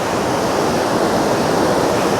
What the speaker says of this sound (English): This is a popular surfing beach this, however the waves don't look too big today.